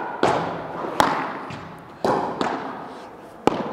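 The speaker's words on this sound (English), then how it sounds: "Let's check some drop shots." A padel ball is struck with a racket on drop shots during testing of the 2023 Royal Padel Aniversario line. Several sharp hollow thuds ring out at uneven intervals, each with a short decay, no talking.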